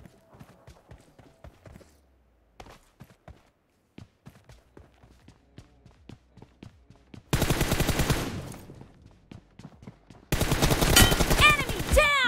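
Bursts of automatic gunfire in the mobile battle royale PUBG Mobile, two loud sustained volleys following a stretch of sparse clicking footsteps and quiet taps.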